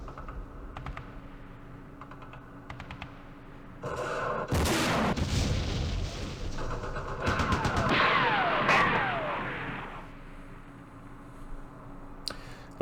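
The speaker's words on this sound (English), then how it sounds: "There's that recoilless rifle." A recoilless rifle fires in the Campaign Series Vietnam wargame during Operation Starlite, two loud booming blasts a few seconds apart, preceded by light clicking and a low steady hum.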